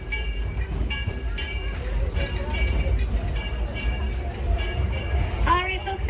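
A Disneyland Railroad train rolls into New Orleans Square Station, a low steady rumble of the cars with rhythmic wheel clicks and a brief squeal of brakes near the end, carrying on under faint talk.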